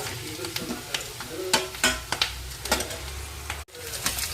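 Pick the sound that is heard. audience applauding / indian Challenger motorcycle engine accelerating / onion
onion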